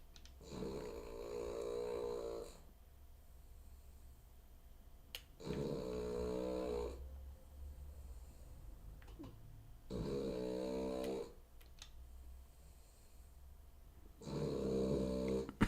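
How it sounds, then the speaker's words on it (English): A dog named Monty snores in four long, rhythmic bursts separated by quiet pauses, each snore loud and rasping with a throaty rattle, heard close by with no talking. "Whilst Monty snores again, keeps continually"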